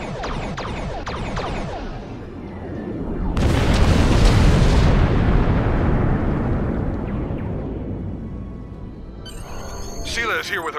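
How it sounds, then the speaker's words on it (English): Orbital bombardment blowing up an Iconian gateway in Star Trek Online, a huge booming explosion that swells and rumbles for several seconds, preceded by short blasts, with game voices and sound effects around it. "Time to blow up an Iconian gateway. Because who doesn't love a little bit of orbital bombardment?"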